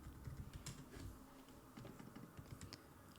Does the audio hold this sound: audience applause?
no